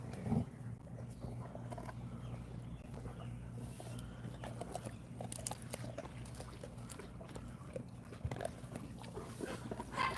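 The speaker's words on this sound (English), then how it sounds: "She don't care nothing about that growling." An Americane da Presa dog growls in a low, steady rumble that runs continuously and close by, with occasional faint shuffling over it.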